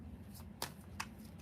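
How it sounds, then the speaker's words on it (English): Tarot cards are shuffled by hand in a quiet room, giving a soft, faint riffling with a couple of sharp card snaps. "I don't even know why I'm shuffling these cards."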